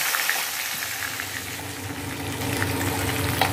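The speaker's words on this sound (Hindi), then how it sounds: "अब दोनों तरफ पलटा पलटा के हम लोग अच्छे से लाल करके इसको फ्राई करके निकालेंगे" Shorputi fish fries in hot oil with a steady, close sizzle and crackle that continues throughout without talk.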